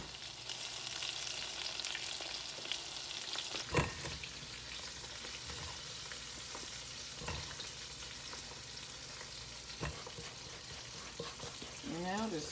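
Okra frying in a pan crackles and sizzles steadily, with scattered pops and a few clatters of stirring, while a person speaks quietly over it.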